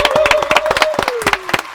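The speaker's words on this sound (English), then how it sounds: "Can we have a round of applause for everyone that supports me?" A small audience at a London music producer competition claps in quick, close, uneven bursts, with a voice talking over the applause.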